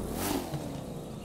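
A rally raid car engine in The Crew 2 roars and revs briefly, a rough, loud burst of motor noise that settles into a steady rumble.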